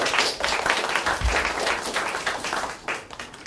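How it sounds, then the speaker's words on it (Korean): A symposium audience gives a student speaker a sustained round of applause, steady dense clapping filling the hall throughout with no speech over it. "큰 박수 부탁드리도록 하겠습니다."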